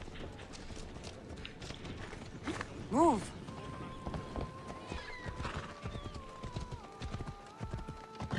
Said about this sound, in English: I have my own horse.